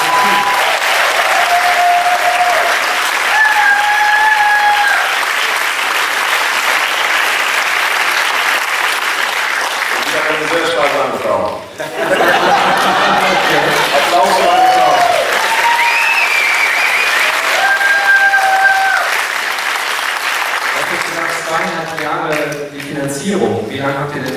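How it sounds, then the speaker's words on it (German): Sustained audience applause fills the hall at a film world premiere, dense and loud throughout, with a few cheers and a voice briefly talking over the clapping in the middle and near the end. "Nochmal Applaus."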